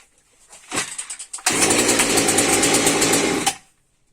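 A Husqvarna 236 chainsaw, fitted with a repaired carburetor, gives a few sputtering pull-start coughs, then catches and roars loudly at high revs for about two seconds before abruptly cutting out.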